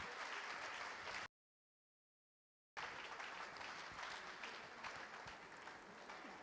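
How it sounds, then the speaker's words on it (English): An audience at a Bayelsa State swearing-in ceremony gives sustained applause for the new Secretary to the State Government, a dense wash of clapping broken by a brief silent gap, then resuming steadily. "Applause for the SSG designate."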